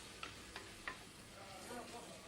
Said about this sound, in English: that sizzles away for a little bit.